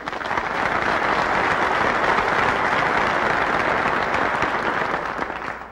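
Lecture audience breaks into loud, dense applause that holds steady throughout with no talk over it, easing off slightly at the very end.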